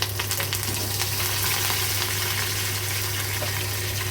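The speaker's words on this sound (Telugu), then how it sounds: "చిటపట అన్నాక" Curry leaves crackle in hot tempering oil with urad dal, crushed garlic and dried red chillies. A steady, close, loud sizzle runs throughout with fine popping bursts and no talking.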